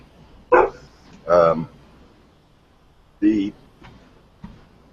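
A dog gives a few short, loud barks, two close together and then another after a pause, with fainter yaps trailing off in an otherwise quiet indoor setting.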